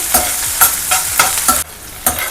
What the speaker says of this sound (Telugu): ఇప్పుడు ఇందులో ఉల్లిపాయలు, పచ్చిమిర్చి వేసుకుంటున్నాం. ఫ్రై అవ్వనివ్వాలి.